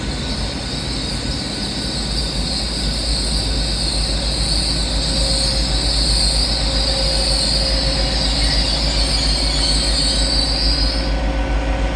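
Train wheels squeal loudly and steadily as a passenger train creeps through rain-soaked Dawlish station, the high metallic screech sustained for several seconds over a low rumble of rolling stock, with no voices.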